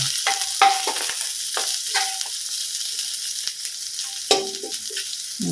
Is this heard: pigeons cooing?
no